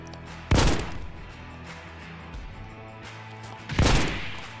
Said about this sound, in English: I shot 3 shots and I hit them all